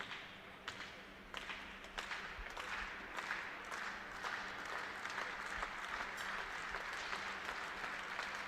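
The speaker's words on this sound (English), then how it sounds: "Crowd clapping along." A crowd at a men's air pistol final in Burgas, Bulgaria claps along in a steady rhythm, sharp regular claps over a faint hall background, moderately distant and without talk.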